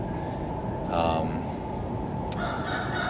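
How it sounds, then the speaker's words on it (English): A bird in a French Quarter courtyard in New Orleans lets out a couple of brief, faint calls over a steady wash of background noise. "this bird that's chirping is really enjoying it"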